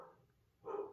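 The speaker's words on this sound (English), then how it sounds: "There will be dog barking." Indoor dog barking, one short muffled bark near the end after a faint earlier sound, moderately close with no talk.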